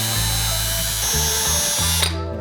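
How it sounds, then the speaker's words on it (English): A power drill bores through the wood wall of a red barn, whining loud and close at a steady pitch that drops briefly under load, then cuts off near the end. "So this will make it a lot easier if my bit will reach to the other side."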